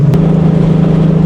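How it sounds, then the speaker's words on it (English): A loud Ford Mustang drift car idles with a loose, scraped-off V-band muffler clamp, giving a steady, heavy low exhaust drone that holds close and constant without revving. "the reason why my car sounds so damn loud is because one of the V-band clamps on the muffler is actually scraped off"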